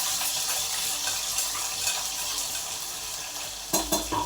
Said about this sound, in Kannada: ಬಟಾಟೆ ಹಾಕಿ ಚೆನ್ನಾಗಿ ಹಿಂಗೆ ಫ್ರೈ ಮಾಡತ್ತೇನೆ ಬಟಾಟೆ